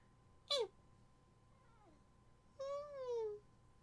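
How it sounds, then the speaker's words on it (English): A pet cat standing on a bed meows nearby in a quiet room: a short sharp meow, a faint chirp, then a longer drawn-out meow that falls in pitch. "You silly little pretty kitty."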